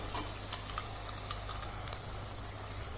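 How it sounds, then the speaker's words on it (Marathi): Crispy raw-rice pakodas fry in hot oil in a steady, faint bubbling sizzle with light ticking pops, close by and without any talking. "आता पलटी केल्यानंतर पण आपण अशाच पद्धतीने हे तळून घ्यायचं।"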